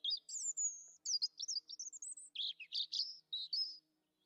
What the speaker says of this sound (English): Yeah, that's a pretty good little chirp